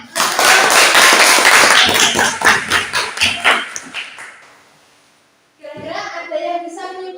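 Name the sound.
group clapping hands in a classroom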